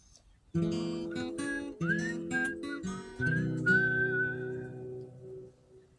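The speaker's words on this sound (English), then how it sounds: "Hard one to whistle." Someone whistles a tune with sliding notes over sustained instrumental chords, the melody rising and holding before fading.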